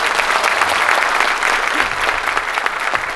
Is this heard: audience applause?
yes